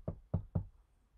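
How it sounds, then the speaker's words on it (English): Three light, evenly spaced knocks tap on a wooden door, close and distinct, followed by quiet. "He tapped lightly on the door."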